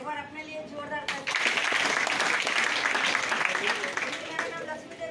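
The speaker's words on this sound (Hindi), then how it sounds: "एक बार अपने लिए जोरदार ताली।" Lively applause from a seated audience at an indoor DXN products testimonial meeting breaks out suddenly after a brief spoken line and fills the hall steadily to the end, with voices calling faintly over it.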